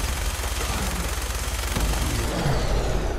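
Dense, continuous gunfire in Fallout 4 during a fight with a Deathclaw, a rough, loud rattle of shots that holds steady with a low booming undertone.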